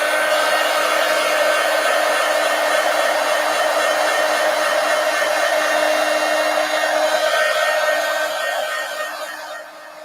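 A hair dryer blows steadily on a paper collage, a loud continuous whooshing hum with a faint tonal whine that stays even for nearly ten seconds before softening at the end.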